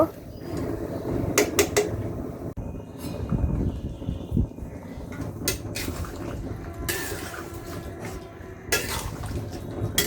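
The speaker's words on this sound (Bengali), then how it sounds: "দেখতে পাচ্ছেন আমি নাড়াচাড়া করে দিচ্ছি" Beef is stirred in a cooking pot, with repeated metallic scrapes, clanks and wet, squelching turns of the meat in liquid, close and uneven in rhythm.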